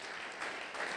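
A church congregation applauds during a Sunday thanksgiving worship service: a brief, fairly faint wash of dense clapping heard from a distance.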